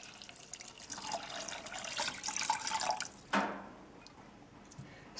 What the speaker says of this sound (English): pour in our water